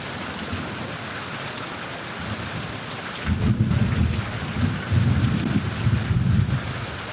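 Steady rain pouring down in northern Bangladesh, joined about halfway through by deep rumbling thunder that rolls in and swells twice; no voices.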